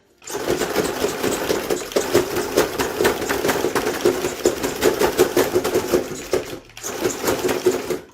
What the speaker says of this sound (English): as soon as you get off the throttle and it's just doing that coast, you hear it